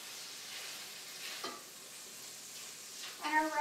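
Korean beef simmers in a sweet, sugary brine in a pan, giving a soft, steady sizzle with a few faint stirring scrapes.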